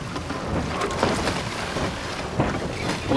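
An old river ferry crosses the Tietê, heard as a steady, broad rumble of engine and water with wind buffeting the microphone, constant and fairly loud with no voices.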